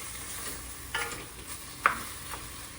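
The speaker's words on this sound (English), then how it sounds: "stir this around a good amount" Beef stew sizzles steadily in a pan over medium heat while a utensil stirs it, giving a couple of sharp scraping clinks against the pan above the quiet, continuous frying hiss.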